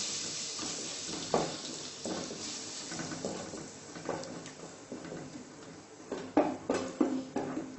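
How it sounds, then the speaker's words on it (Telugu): Ginger garlic paste and red chili powder frying in a pan for a restaurant-style butter chicken, a soft steady sizzle broken by repeated stirring clatters and scrapes, with no talk. "కొంచెం ఫ్రై అవ్వాలి."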